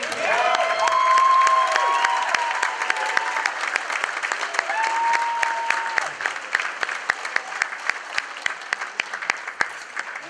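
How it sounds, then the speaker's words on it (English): An awards-ceremony audience claps for Mary Kennedy in a dense, sustained round of applause lasting about ten seconds, loud at first and slowly tapering, with a sung or hummed tone gliding above it. "please give me a big round of applause for Mary Kennedy"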